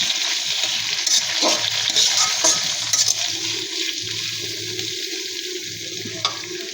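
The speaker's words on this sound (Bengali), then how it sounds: "কিছু সময় ধরে ভেজে নেব" Tomatoes and onions fry in oil in a wok, a constant soft sizzle with a few stirring clinks and scrapes, moderately close and without speech.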